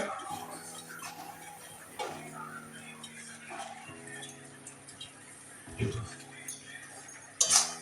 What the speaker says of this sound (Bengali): ধনে পাতা দিয়ে ভালো করে একটু মিশিয়ে দেবো